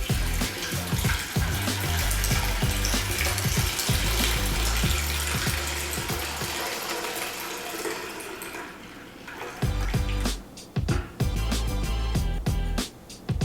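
Kale juice pours from the spout of a Hamilton Beach Premium Big Mouth juicer in a steady, loud splashing stream, thinning into irregular trickles and drips toward the end.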